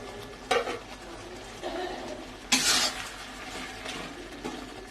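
A lid comes off a pot of cooking tomato chutney with a short metallic clank, one near the start and a brighter one midway, over a soft simmering sizzle.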